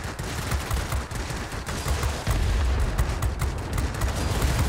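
Rapid airplane cannon fire in the World of Warplanes flight combat game, a dense, continuous rattling barrage with booming low rumble that grows heavier midway and stays loud throughout.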